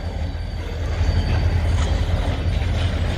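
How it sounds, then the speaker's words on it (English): A southbound freight train loaded with pulpwood rolls past in a loud, steady rumble, with faint metallic squeals from the wheels. "Got the train heading back south."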